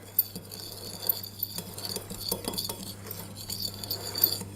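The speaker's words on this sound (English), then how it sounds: "And I'm going to mix that" A spoon scrapes and clinks softly in a bowl, mixing granulated sugar with ground cinnamon in quiet, irregular strokes against a faint background hum.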